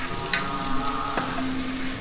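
Chopped onion frying in a pan for a mushroom pepper fry, a steady close sizzle with a low crackle that holds for the whole moment, with no talking over it.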